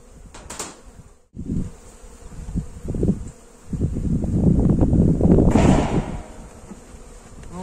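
Honey bees buzz loudly around a hive during an early spring transfer of a colony, a dense droning swarm that swells and grows louder in the second half, with a few brief knocks early on.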